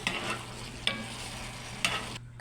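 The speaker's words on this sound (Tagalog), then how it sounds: "Ilagay na natin yung liquid sa marinate natin guys." Seared chicken adobo simmering in a pan as marinade liquid goes in, a steady soft sizzle with stirring scrapes and three sharper bursts as liquid hits the hot pan, ending abruptly.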